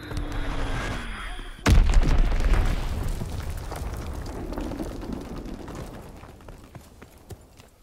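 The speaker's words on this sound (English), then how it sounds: "Enemy bomb incoming." A heavy explosion booms suddenly in the Call of Duty WWII game, following a brief lighter passage, then rumbles and fades slowly with scattered crackling debris over several seconds.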